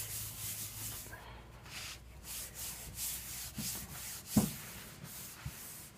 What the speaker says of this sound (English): And then just come back in here and really burnish it.